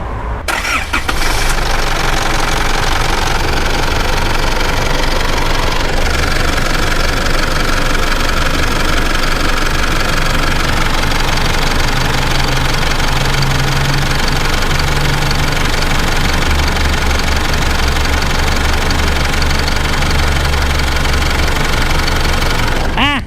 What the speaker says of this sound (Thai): เดี๋ยวให้ฟังเสียงเครื่องยนต์สักเล็กน้อย